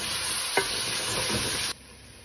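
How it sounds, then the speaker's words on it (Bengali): Food fries and gets stirred in a pan in a home kitchen, with garlic and ginger among the ingredients. A steady hiss carries a single sharp scrape of the spoon early on, then the sizzle drops off abruptly to a quieter hush near the end. "একটু একটু ভাজাভাজি করে নিছি"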